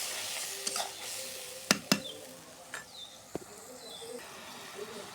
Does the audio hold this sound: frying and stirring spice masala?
yes